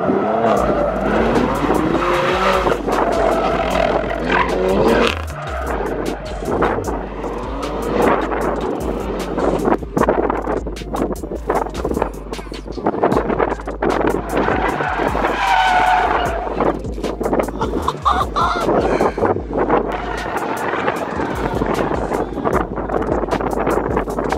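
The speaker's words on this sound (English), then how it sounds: "Smoking my tires." Car tires skidding and squealing on a retired go-kart race track, a loud continuous screech with engine roar and wind buffeting on the microphone, sustained throughout with no talk.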